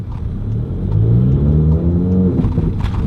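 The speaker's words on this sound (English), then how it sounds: "that's how I usually have to like vroom, vroom, and then like the second rev, I let the clutch grab" Volkswagen MK7 GTI engine fitted with a BFI Stage 4 clutch revs loudly and close by, the pitch climbing steadily in a sustained rumbling run and then dropping back near the end.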